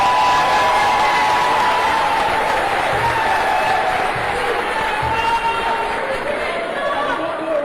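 Crowd applause at a Ballon d'Or 2026 ceremony in a conference hall, honouring U17 tournament champions; a dense, steady wash of clapping mixed with crowd chatter and some cheering, sustained throughout.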